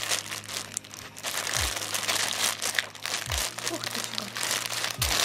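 An AliExpress parcel's packaging is torn and crinkled open in crisp, repeated rustling and crunching bursts, with a few low thuds and a voice speaking briefly in between.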